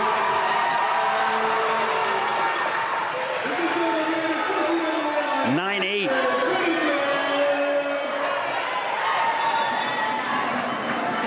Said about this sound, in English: And Mia Hildebrand with the block, and the crowd erupts